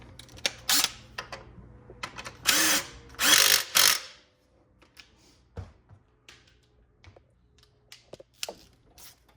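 Power tool driving a 13 mm bolt on the factory belt tensioner of a 2018 Ford F-150, heard as several short loud bursts with quiet gaps and faint clicks and handling noises between them.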